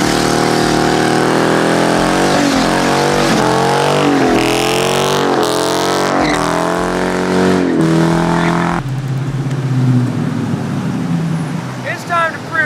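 A car engine roars close and loud, rising in repeated quick revs through fast gear shifts, then breaks into a harsh, rushing tire-spinning burnout noise. Someone talks over the engine.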